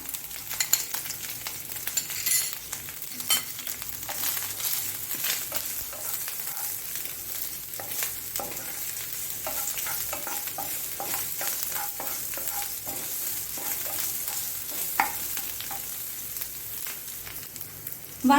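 Onion sautés in a pan with finely grated ginger, a steady close sizzle with scattered soft crackles and occasional stirring scrapes running evenly throughout, no voices.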